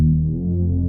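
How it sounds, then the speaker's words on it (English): A deep, smooth sidechain bass synth from the Nexus Prids preset in FL Studio holds a sustained low note, heavy and droning, with no voices. "this is on Nexus, it's the Prids sidechain bass"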